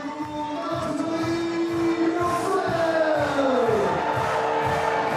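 A large arena crowd at a women's bouldering final roars and cheers continuously, loud and sustained, with rising whoops and shouts throughout.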